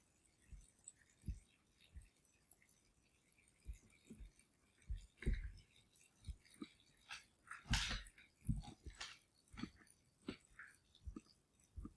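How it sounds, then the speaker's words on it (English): A dog chews on her bone close by, sounding as irregular soft crunches, gnaws and clicks with brief pauses, faint and intimate in a quiet room. "you can hear my dog chewing on her bone here next to me"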